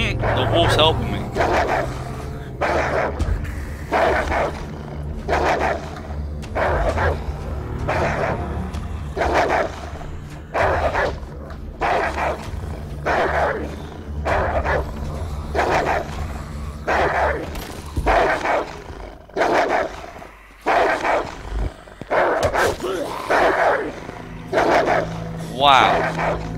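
Wolf in the video game H1Z1 barking repeatedly in a fast, regular series of sharp barks, loud and close, with someone talking over parts of it.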